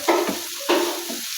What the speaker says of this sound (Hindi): प्याज को सिर्फ सौते करना है